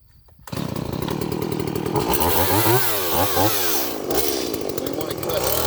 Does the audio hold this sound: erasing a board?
no